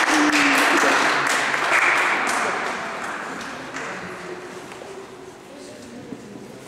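Applause from spectators after a tennis exhibition match, loud at first and gradually thinning and fading over several seconds, with some voices underneath.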